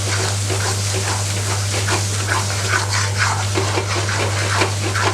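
Liquid is poured into a pan with a steady splashing gush, close by, over a constant low electrical hum.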